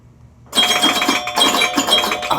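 A bright, busy iPhone ringtone starts abruptly and plays on at steady loudness, a dense run of chiming electronic tones with no voices over it.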